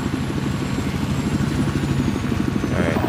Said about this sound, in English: I'm only flying this helicopter with one hand right now.